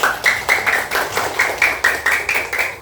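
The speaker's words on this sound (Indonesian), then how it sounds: "Tepuk tangan dulu anak yang paling meriah." Children in a classroom clap together in a lively round of applause, a steady stream of quick, fairly loud claps with a slightly rhythmic pulse, without talking.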